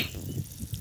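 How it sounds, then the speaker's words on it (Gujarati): Steady running water from a sprinkler with a low splashing rush, continuous and fairly close, no voices. "આયા પાણી નીકળી રહ્યું છે"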